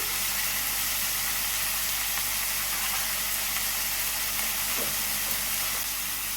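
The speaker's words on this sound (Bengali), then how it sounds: "এবার কুমড়ো আর গুগলি খুব ভালোভাবে কষে নিয়েছি।" Pumpkin and freshwater snails stir-frying in a hot pan give off a steady, loud hiss and sizzle that holds unbroken throughout, with no talking.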